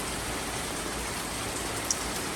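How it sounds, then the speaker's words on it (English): Steady, dense hiss of heavy rain falling continuously in La Fortuna, Costa Rica, even and unbroken throughout, at moderate distance with no voices. "You might be able to hear the rain in the background"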